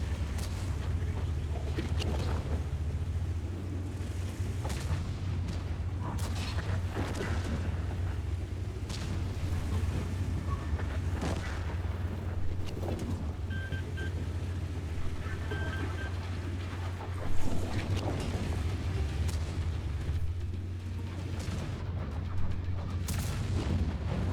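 Tank cannon fire in World of Tanks, on the Last Frontier mode against bots, comes as repeated heavy booms and thuds over a constant low engine rumble, spread steadily through a long, dense battle soundscape.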